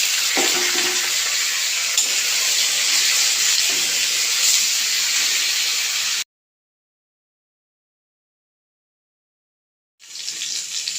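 Steady, loud sizzling of onions and eggplant frying in a pan, broken by a few seconds of total silence before the sizzle resumes.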